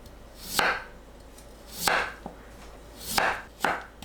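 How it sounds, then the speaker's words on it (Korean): A kitchen knife julienning potatoes into thin 3 mm strips on a cutting board, four quiet, unhurried strokes, each a brief slicing thud, close by with no talking. "감자를 채 썰어 주세요."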